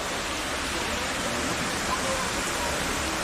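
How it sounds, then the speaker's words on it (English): Heavy tropical rain pours down in the Comoros, flooding a road, making a loud, dense, unbroken roar that fills the whole scene. "It's raining!"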